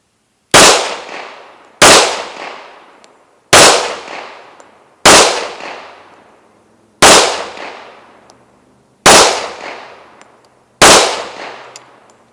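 Seven sharp, loud .45 ACP pistol shots from a TISAS 1911, fired one at a time about every 1.7 seconds, each ringing off into a short decaying echo, with no talking.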